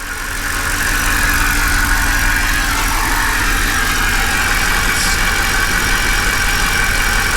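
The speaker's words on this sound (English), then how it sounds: "No way, it's not even misfiring." A 2008 CLK engine running smoothly without misfiring after its starter began cranking. The steady idle hum rises in the first second, then holds loud and even with no talking.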